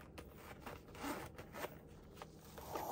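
The zipper on a BTS winter package pouch is drawn open in several short, scratchy pulls, close and quiet, with faint rustling of the packaging between strokes.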